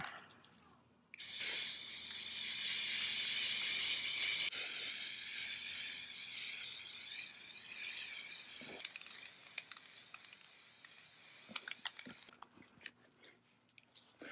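A spray paint can spraying green paint onto a homemade green screen, one long loud hiss of about eight seconds, then fainter sputters and short bursts tapering off, with quiet pauses around it.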